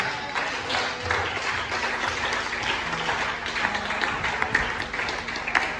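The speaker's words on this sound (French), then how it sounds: "Acclamons pour le Seigneur Jésus." A church congregation applauding during a sermon makes a dense, continuous patter of many hands clapping at moderate distance. Faint voices mix in and some sharper claps stand out.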